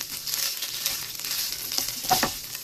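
Ground beef and turkey sausage sizzle in a pan, a soft steady crackle with a few louder pops and stirring scrapes near the end, no talking.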